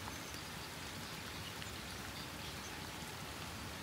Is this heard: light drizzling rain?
yes